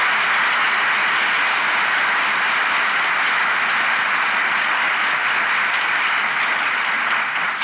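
A studio audience applauds on a Turkish relationship quiz show, a dense, steady wash of clapping that holds evenly from start to finish with no voices over it.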